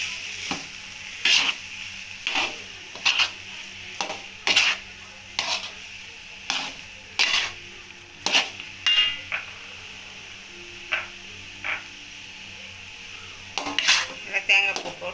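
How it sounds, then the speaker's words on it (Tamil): Rice upma being stirred in a pan, with repeated sharp scrapes and clinks of a spoon against the metal every second or so over a faint sizzle, close and fairly loud, with no voices. "நல்லா கிண்டி விடுவோம்"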